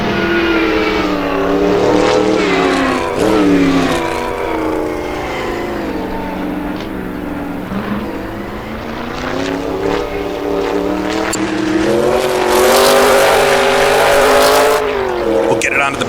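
Engine of a light 1960s sports car with a 4.9-liter, 400 hp motor in Assetto Corsa, a loud sustained roar that rises and falls through gear changes, with faint tire squeal and someone talking over it.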